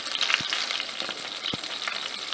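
Four chicken thighs fry in a large pan with a steady, close, crackling sizzle, broken by two soft low thumps as the pieces shift.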